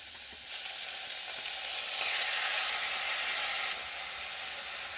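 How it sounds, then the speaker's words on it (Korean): Beef frying in sesame oil in a pot gives a steady, close sizzle that swells slightly midway and then settles, with no voices over it. "우선은 냄비에다가 참기름을 넣고 소고기를 넣어줄게요. 겉면이 살짝 익어질 때까지 볶아줄게요."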